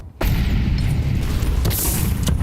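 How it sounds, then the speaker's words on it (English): A flashbang grenade bursts in a Counter-Strike match, a sudden loud boom after a short quiet moment, followed by sustained ringing, crackling noise through the rest. "Jimmy does eat the flashbang."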